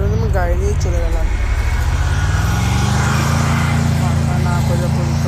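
Car driving in the mobile battle royale game Free Fire, a loud, steady engine drone that rises in pitch and then holds, with a voice speaking briefly at the start.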